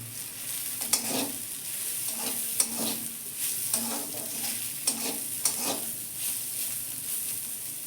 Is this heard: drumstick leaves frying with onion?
yes